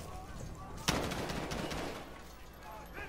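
Gunfire in a Modern Warfare video game, a sharp loud shot followed by a brief rattling burst and a fading tail over background game noise.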